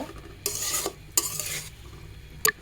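Fenugreek leaves fried with salt in a pan are stirred in three scraping, sizzling bursts: two longer sweeps, then a short final stroke, with quiet crackling in between.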